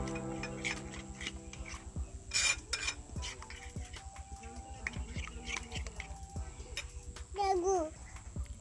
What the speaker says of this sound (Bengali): আমি অল্প জল দিয়ে মশলাটা ভালো করে মেশাবো।